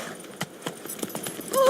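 Roach the horse in The Witcher 3 moves along with irregular clip-clop hoof beats, fairly close and moderately loud, ending on a short rising tone.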